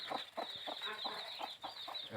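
A hen with chicks about four or five days old, clucking in a quick regular series of short calls at close range; no talk.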